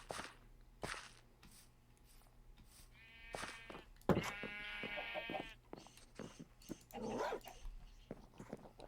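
Dogs in the video game Minecraft give sharp, repeated barks, mixed with bleating sheep and other game sounds at a fairly faint level, with no talk over them.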